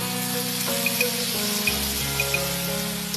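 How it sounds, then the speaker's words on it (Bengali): Sliced banana stem poured into a well-fried spice mixture in a karahi, giving a steady, close sizzling hiss that carries on for the whole stretch alongside a faint tonal hum. "মশলার মিশ্রণ ভালো মতো কষিয়ে ঢেলে দেয়া হলো ফালি করে কাটা কলার থোর"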